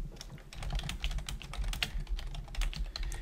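Rapid, continuous typing on a computer keyboard while composing a new email in Outlook, a dense run of close, sharp key clicks with no speech.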